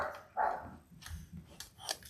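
Dogs bark indoors in a few short, moderately loud yips and barks scattered over a couple of seconds, with a quiet room behind them.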